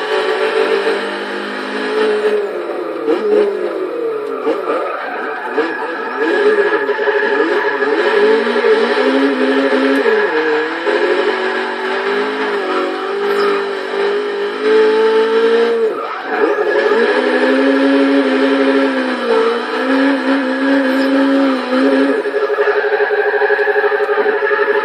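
A 1980 Fiat Spyder in Forza Motorsport 6 revs hard through gear changes, its engine note rising and falling loudly and continuously while the tires squeal through slides, with no talking.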